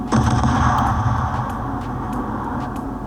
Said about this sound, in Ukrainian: Постріли.